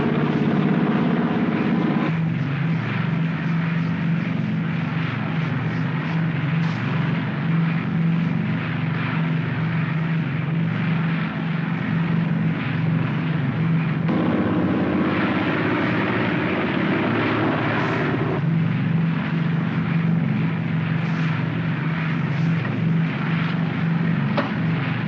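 A 1950s aircraft drones steadily on its approach down the glide path toward a landing. The engine noise is continuous and fairly loud, with slow swells in level and no speech over it.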